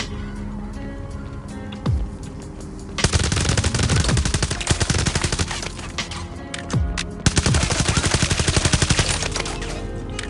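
Rapid bursts of automatic gunfire in the video game Division Resurgence, loud and close, with sustained stretches of fire broken by brief pauses and sharp single shots.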